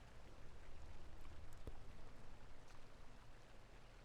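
Waterfall water in a Halo 2 multiplayer map rushes as a steady, faint, broadband hiss throughout, with a brief click partway through.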